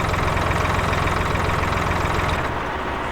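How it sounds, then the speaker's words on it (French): Steady idling of a tractor engine, a close, constant low mechanical rumble that eases slightly toward the end, with no talking. "je vais vite fait prendre ce tracteur là"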